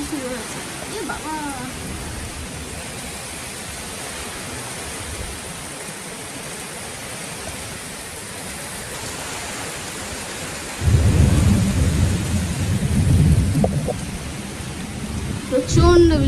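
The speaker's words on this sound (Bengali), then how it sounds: "প্রচণ্ড বৃষ্টি হচ্ছে, মানে এই একটা এরকম একটা বৃষ্টির দরকার ছিল" Heavy evening rain pours steadily in a dense hiss, with a deep rumble of thunder swelling about two-thirds through; the downpour sounds close and continuous, and a voice speaks briefly over it.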